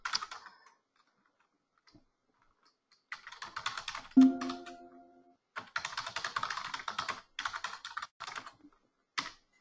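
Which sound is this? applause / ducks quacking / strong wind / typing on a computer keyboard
typing on a computer keyboard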